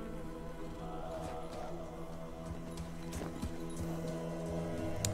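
Horse hooves clip-clop in a Total War Attila cutscene, a steady run of hoofbeats at moderate distance beneath a low ambient drone and musical score.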